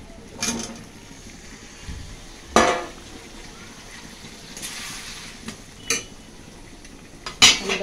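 Cut potatoes going into spiced masala in a home kitchen pan, heard as a few sharp metal spoon scrapes and clinks against the pan, spaced apart over a soft low frying hiss.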